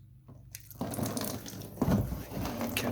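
Coolant drains from the bottom of a dirt bike's water pump once an 8mm bolt is loosened, a steady splashing trickle that starts abruptly and keeps running close by, with no talk over it.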